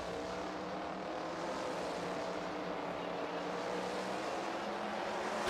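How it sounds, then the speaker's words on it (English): Sprint car engine roars in a racing video game, a loud sustained drone heard alone without talk. "Was not expecting to be impressed by a sprint car game."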